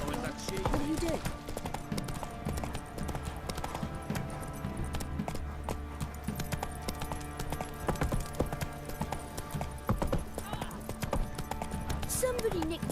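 A horse's hooves clip-clop steadily in The Witcher 3: Wild Hunt, a continuous trotting rhythm layered under game music and talk.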